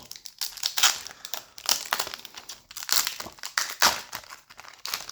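Japanese Pokémon card booster packs being torn open and handled up close, loud repeated crinkling and crackling of foil wrappers in quick bursts, with short rustles between, no voices.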